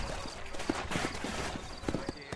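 Horse hooves clip-clopping in the video game Red Dead Redemption, a quick irregular run of close hoofbeats with a continuous background under it and some talk mixed in.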